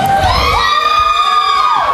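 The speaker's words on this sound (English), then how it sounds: "Nice loud crowd tonight." A loud wrestling crowd at an indoor event cheers and yells continuously, with whoops and high shouts rising over a dense roar, close and sustained throughout.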